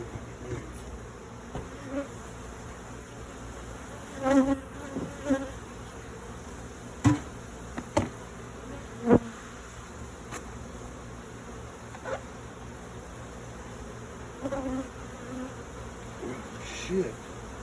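Honeybees buzz around an opened hive, a faint steady drone with scattered knocks and taps from handling and brief rustles, no speech over it.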